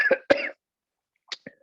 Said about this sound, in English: you get a little cough, that's where this comes from.